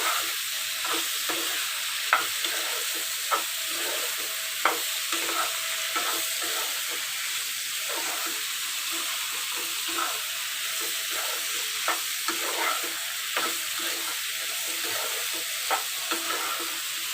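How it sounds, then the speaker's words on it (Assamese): Egg pasta stirred and fried in a kadai gives a steady, close sizzle with a bright hiss, broken by regular scraping and stirring clicks throughout. "প্ৰায় 2 মিনিটমান সময় এনেদৰে ভাজিব লাগিব"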